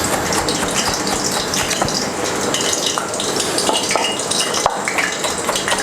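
Tomato slices drop into hot oil over frying onions for a hot sauce, giving a loud, continuous sizzle and crackle with scattered clinks of utensils against the pan.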